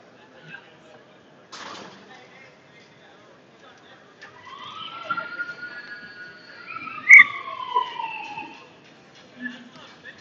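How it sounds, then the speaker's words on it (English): A siren wails in rising and falling sweeps at a hockey game, moderately loud and somewhat distant, with a thud earlier and faint voices nearby. "Man, that siren's loud."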